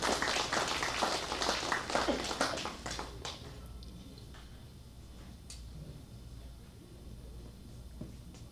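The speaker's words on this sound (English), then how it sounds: "let's give another round of applause to Gahua and also for Du Feng." An audience at a reunion event for former refugee camp healthcare staff gives a round of applause, loud clapping for about three seconds that quickly thins to scattered claps and quiet room tone.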